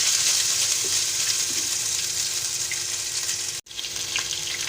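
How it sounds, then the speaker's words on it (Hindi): Garlic and ginger paste frying in a pan, a continuous bright sizzle with a brief cut near the end, heard close up with no talking. "लहसुन का पेस्ट भुन चुका है"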